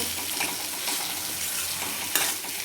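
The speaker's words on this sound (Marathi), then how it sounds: "पाच मिनिट आपलं टोमॅटो छान शिजू द्यायचे" Tomatoes cooking with salt in a pan for a masoor dal and onion dish, a soft continuous frying hiss with faint stirring, one brief louder scrape toward the end, no voices.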